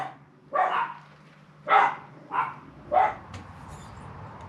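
Four barks from a dog, a little distant, come in a loose sequence with pauses between them, followed by quiet rustling.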